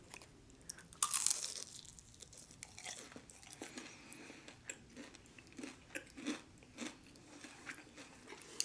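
Crispy fried chicken, in a mild and a spicy version, is bitten and chewed close up. Repeated loud crunches come in an irregular rhythm, with no talking over them.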